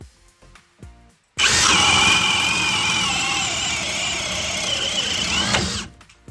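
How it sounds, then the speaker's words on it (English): A Makita LXT XPH14 cordless hammer drill in drill mode, speed 2, with a 5 amp hour battery bores through a knot in wood, a loud continuous high-pitched whine lasting about four seconds before stopping abruptly. "It chugged through the knot like it was nothing with a 5 amp hour battery."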